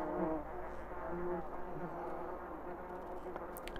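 European hornets (Vespa crabro) buzz up close with a soft, continuous hum that wavers slightly and stays fairly quiet throughout.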